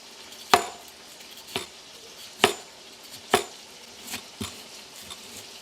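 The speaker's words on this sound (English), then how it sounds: "Go ahead and cut up a little bit more onions." Knife chopping onions on a kitchen cutting board, six separate sharp chops at an uneven, unhurried pace, fairly close and heard alone with no talking.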